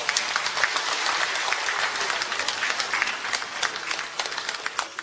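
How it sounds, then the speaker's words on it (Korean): An audience in a city cultural arts hall applauds the mayor after a provincial development briefing, a sustained crowd clapping that stays steady and fairly loud for several seconds. "수고하신 시장님께 다시 한번 큰 박수 부탁드리겠습니다"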